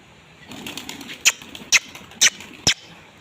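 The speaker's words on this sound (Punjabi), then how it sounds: "ਵੇਖੋ ਜੀ ਕਬੂਤਰੀ ਉੱਡ ਕੇ ਆਉਣ ਲਈ ਤਿਆਰ ਹੈ" Four sharp, close bursts of wing flapping, evenly spaced about half a second apart, against a quiet background.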